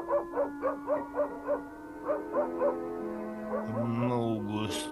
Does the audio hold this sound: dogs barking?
yes